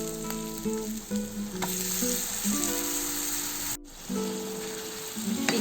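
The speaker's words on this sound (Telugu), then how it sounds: "దీన్ని బాగా మనము ఫ్రై చేసుకున్నాము." Marinated chicken fries loudly in a pan, a strong continuous sizzle with spitting crackles, accompanied by a layered tonal hum that shifts pitch throughout and briefly cuts out midway.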